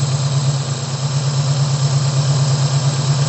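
A Toyota Corona petrol engine idles steadily while its carburetor is adjusted, giving a loud, continuous low hum with a faint high whine and no pauses or talk.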